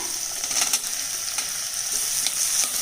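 Steady sizzling of tomatoes sautéing in a hot pan, with faint stirring scrapes now and then; no talking.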